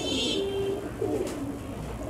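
A white pigeon in a Bangladeshi pet shop gives a short, low coo close by, with muffled shop noise in the background.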